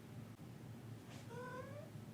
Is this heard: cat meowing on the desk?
yes